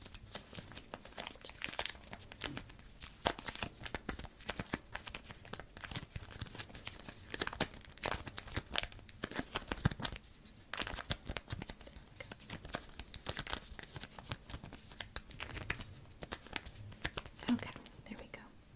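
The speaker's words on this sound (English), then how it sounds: "I'll be putting a 2nd piece of tape over this one to better secure it," Tape tears and crinkles close to the microphone in a quiet ASMR setting, with repeated sharp ripping and crackling bursts and soft rustling between them, under faint whispering.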